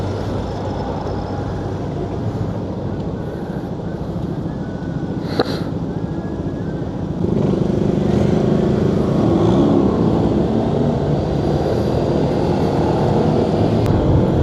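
A Honda Giorno scooter rides through city traffic in Davao, its steady engine drone joined by the broadband rumble of surrounding vehicles, which grows louder about halfway through. A brief higher tone cuts in near the middle.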